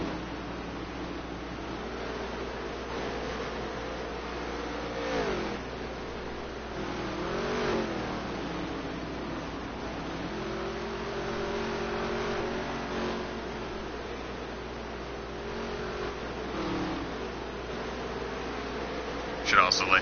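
Race cars on the Bristol dirt track in a racing game drone and rev steadily, with engine pitch rising and falling as they pass, heard under continuous race commentary.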